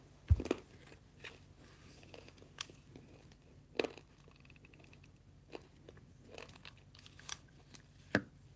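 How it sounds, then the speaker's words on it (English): A person munches and chews food close to a microphone during a livestream, with soft irregular crunches and bites spread quietly across a hushed room. "I'm kind of munching"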